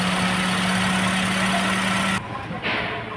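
Maruti Suzuki Celerio engine idling after its faulty ignition coil was replaced: a steady, close, even hum that abruptly drops to a quieter level partway through.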